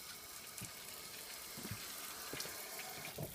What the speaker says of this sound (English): So there it is, the outdoor shower.